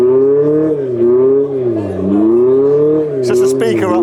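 Abarth Scorpionissima car engine revving from a loudspeaker at a car show, a steady droning rev that rises and falls in pitch, followed by a brief burst of higher noise, with voices around.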